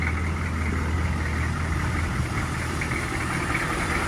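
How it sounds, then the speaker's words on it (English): A squarebody truck engine idles steadily after sitting unused for several months, a constant low rumble with a deep droning hum, close and loud with no talk. "So it's idling right now."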